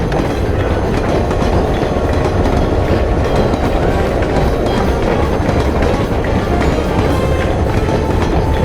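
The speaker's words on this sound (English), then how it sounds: "The train's not slowing." Runaway train rolling fast on rails in the Over The Hedge game, a steady loud roar of wheels and rattling carriages with continuous clickety-clack and rushing wind, no pauses.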